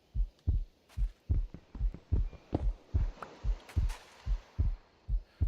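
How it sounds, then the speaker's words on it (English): Pounding heartbeat in the Minecraft video game, steady thumping double beats repeating about every half second, loud and close with no talk over it. "The heart pounding."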